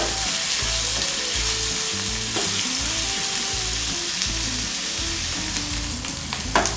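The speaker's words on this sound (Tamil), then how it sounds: "இது போல் நல்லா வெங்காயம் வதங்கி வரட்டும்." Onions and curry leaves fry in hot oil, producing a dense, steady sizzle close up that runs without a break, with background music playing underneath.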